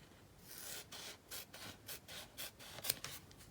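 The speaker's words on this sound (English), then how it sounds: "is go in like this and just cut out strips." Scissors cutting strips out of foam sheet for a steampunk keepsake box, giving a series of soft, rhythmic rasping snips close by with no talk.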